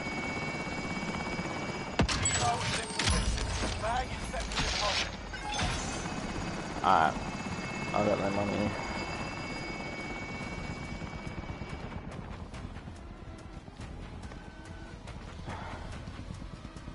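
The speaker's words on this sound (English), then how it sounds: "Hostile attack chopper carrying cash." An attack helicopter flies in the Warzone video game, its rotor chop a steady low throb throughout, with crashes, bursts of gunfire and people talking over it.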